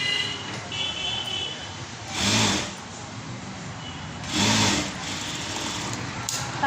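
A sewing machine stitches a blouse with a steady close whirring hum, swelling twice into louder bursts of faster stitching before settling back to an even run.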